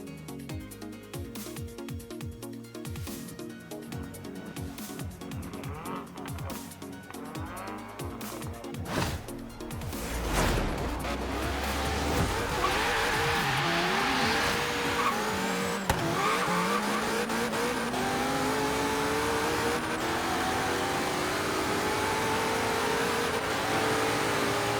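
A Hennessey Venom GT and a Koenigsegg Regera drag race in Forza Horizon 3, engines idling and revving before a sudden launch with tire squeal, then a long rising roar of hard acceleration through the gears.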